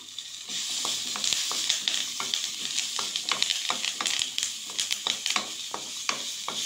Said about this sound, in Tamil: இந்த வெங்காயம் நல்லா வதங்கணும், கொஞ்சம் லைட் ப்ரௌன் கலர் ஆகிற அளவுக்கு வதங்கணும்.